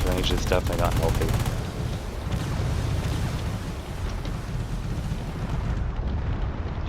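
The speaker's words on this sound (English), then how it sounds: "all that cannon fire at close range is definitely not healthy." Cannon fire from drone ships in a desert warfare video game, a dense barrage of rapid booming shots at close range rolling continuously into a loud rumbling roar.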